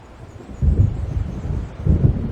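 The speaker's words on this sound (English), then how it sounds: "It seems there's a storm coming." Low rumbling thunder from an approaching storm in the video game Alan Wake, rolling in two heavy swells over a steady windy background hiss, fairly loud with no talking.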